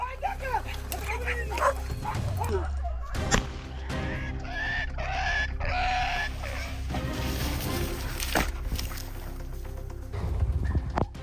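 Hunting hounds baying and yipping during a wild boar hunt, several dogs barking excitedly in overlapping bursts outdoors, with other voices and noise mixed in.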